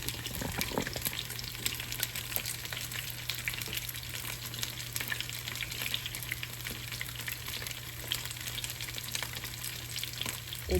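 Beef steak sizzles steadily in a hot pan for Korean BBQ beef, a continuous close frying hiss with faint crackles and no talking.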